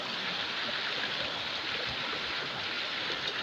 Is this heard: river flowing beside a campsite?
yes